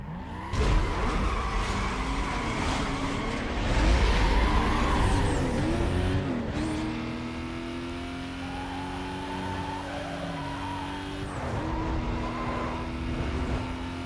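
A Porsche Carrera racing in Need for Speed: Most Wanted (2005, PS2), its engine roaring loud and steady, rising and shifting through gears with a brief tire skid, no talking.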